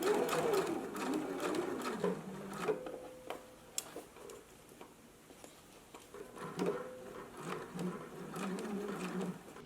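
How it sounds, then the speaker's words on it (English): A sewing machine bastes a set-in sleeve into a garment, running in rapid mechanical bursts with brief pauses between stitching runs, close and steady at moderate volume. "let's go to the sewing machine now, and we're going to baste it in place"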